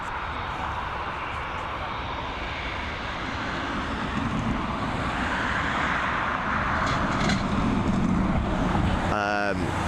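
A 14-year-old Aer Lingus A320 in the airline's oldest livery produces a broad jet-engine roar at Dublin Airport. The sound is steady and swells slightly louder toward the end over a continuous background rumble.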